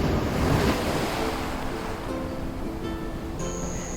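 Steady wash of ocean surf and gusting wind buffets the microphone while kayaking outside a lagoon on a South Pacific island, a constant roar with no voices.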